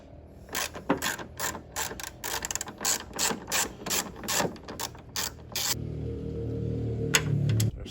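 A hand ratchet loosens a headlight bolt on a Nissan Titan pickup, a rapid series of close clicking pulls in rhythmic bursts, followed by a smoother whirring spin as the bolt runs free, with no talking.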